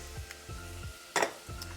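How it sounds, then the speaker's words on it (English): Pork belly in a pan half boils and half fries with a soft bubbling sizzle, while a utensil stirs in regular low scrapes and gives one brief louder clatter. "it is boiling a little more than it is actually frying"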